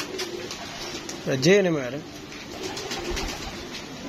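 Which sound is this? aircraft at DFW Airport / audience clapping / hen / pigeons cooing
pigeons cooing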